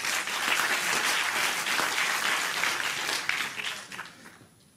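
Sustained applause from an audience at a live broadcast concert event, dense and steady clapping throughout before thinning and fading toward the end.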